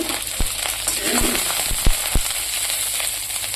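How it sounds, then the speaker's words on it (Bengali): Pointed gourd and bitter gourd frying in hot oil give a steady, close sizzle, broken by a few sharp pops and spits spaced through the run. "এদিকে বসিয়ে দিয়েছি পটল আর উচ্ছেটা ভাজার জন্য"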